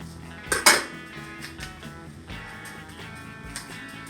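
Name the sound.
stirring yeast into a mixture in a bowl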